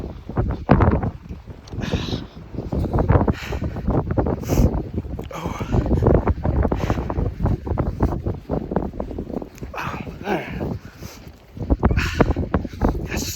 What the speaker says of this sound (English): that wind is whipping